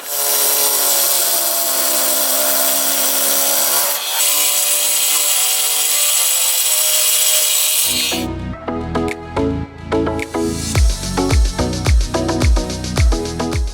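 A power tool cuts through the rear bumper of a Toyota Tacoma pickup, a loud, continuous high-pitched cutting whine that shifts tone partway through, then breaks into choppy, stuttering bursts of grinding near the end.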